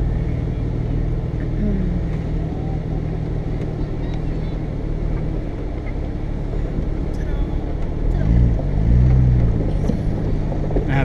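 An off-road vehicle descends a steep hill on a climb, its engine and wind noise a constant, loud rumble close to the microphone, with people talking over it toward the end.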